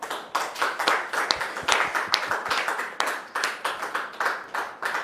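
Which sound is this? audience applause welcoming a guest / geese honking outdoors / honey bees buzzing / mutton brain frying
audience applause welcoming a guest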